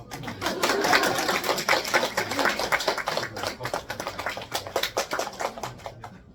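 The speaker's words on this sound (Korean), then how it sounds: "박수" An audience of parents at an elementary school lecture on Chinese characters breaks into dense applause, a loud burst of many hands clapping that thins out toward the end.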